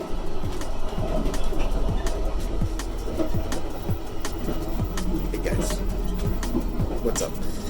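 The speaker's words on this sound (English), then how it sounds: "I'm in the bathroom on the train right now" Interior rumble of a moving train heard from its onboard bathroom: a steady low roar with repeated clacking knocks of wheels over rail joints, loud and continuous throughout.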